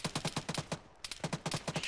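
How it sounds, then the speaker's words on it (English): Repeated heavy booming blasts from a tank cannon in the military video game ArmA 3, firing in quick rhythmic bursts with a brief lull midway, loud and close. "That sounds like a tank cannon"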